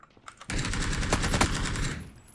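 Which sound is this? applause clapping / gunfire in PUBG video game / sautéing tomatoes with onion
gunfire in PUBG video game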